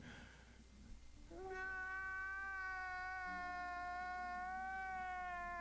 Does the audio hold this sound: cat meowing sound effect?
yes